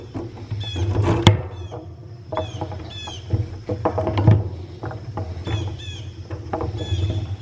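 Honey extractor spinning honey frames: a low, steady mechanical rumble with scattered squeaks, light rattles and patter on top.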